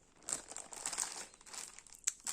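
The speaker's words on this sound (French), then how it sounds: "Je vais la déballer." A cross-stitch kit package is unwrapped, giving soft, close crinkles and rustles of wrapping in short bursts, quiet overall with a couple of sharper crackles.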